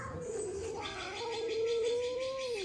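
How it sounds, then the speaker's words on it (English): An upset cat giving a drawn-out, wavering growl-like meow, close and moderately loud, rising and bending in pitch over a couple of seconds with light background noise. "Yeah, there's cats back there."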